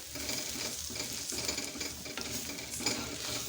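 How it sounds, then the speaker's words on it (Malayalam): Spice powders with garam masala roast in oil in a pan, a steady close sizzle broken by rhythmic scraping stir strokes, with no voices. "ഇനി ഈ പൊടികളെല്ലാം ഒരു പച്ചമണം മാറുന്ന വരെ ഒന്ന് മൂപ്പിച്ചെടുക്കാം"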